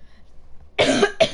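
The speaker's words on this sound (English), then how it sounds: "Elbow cough?" Two quick coughs, the first longer and harsher, the second short, close and fairly loud after a near-silent pause, heard alone without talk.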